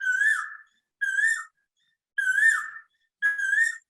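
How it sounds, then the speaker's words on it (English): Asian koel calling four times in a steady series, each rising whistled call about half a second long, clear and fairly close with quiet gaps between. "The Koel you can hear, I suppose."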